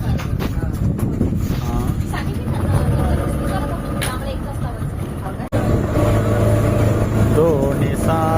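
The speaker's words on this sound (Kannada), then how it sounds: "ಕ್ರೂಸಲ್ಲಿ ಹೋಗ್ತಾ ಇದ್ದೀವಿ" A cruise boat travels on the sea at Gokarna. A continuous engine and wind roar runs through the whole passage, with people talking over it and a brief dropout midway.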